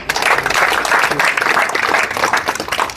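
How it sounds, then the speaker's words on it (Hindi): An audience applauds at the inauguration of the Dr B.R. Ambedkar Library in Kheda village: dense, steady clapping from many hands, loud and continuous for the full few seconds. "तो जोरदार तालियां।"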